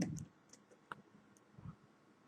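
Scattered light clicks of a computer keyboard as a Google search is typed, a few irregular keystrokes spaced apart with faint low voice-like murmur between, quiet and close.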